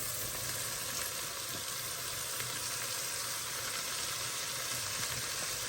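Onion and Swiss chard sauté in a pan for macaroni with homemade cheese, giving a steady, even hiss of frying that runs unbroken throughout with no voices.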